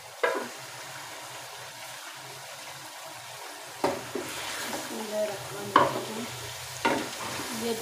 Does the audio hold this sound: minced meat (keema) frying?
yes